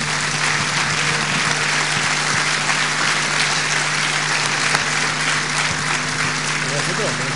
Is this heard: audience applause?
yes